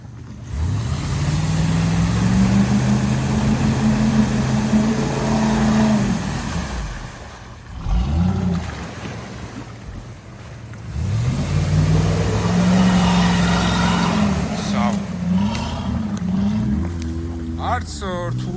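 A Ford F250 claws along a difficult, muddy off-road track on the Khashmi–Gombori route, its engine revving hard in two long, loud surges that rise and fall, with a brief lull between them.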